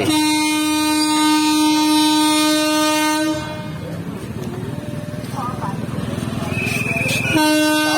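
At Ramrajatala, Howrah, a train horn blares loud and sustained, breaks off as the train rumbles past, then sounds again; people talk underneath the noise.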